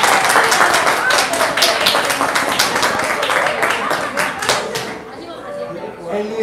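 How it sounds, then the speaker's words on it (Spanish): Audience at a municipal politics lecture applauds with many sharp hand claps over murmuring voices, the clapping thinning and fading out near the end. "un aplauso por una voz"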